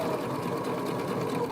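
Sewing machine stitching down a jacket made from thrifted fabric, a steady continuous motor whir and needle drone running evenly throughout at close range.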